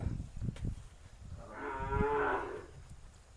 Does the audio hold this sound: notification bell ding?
no